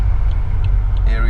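A 2003 BMW 745i E65 accelerating hard with a little wheel spin, its engine a loud, close, steady rumble through the whole short burst, with a faint rising whine near the end.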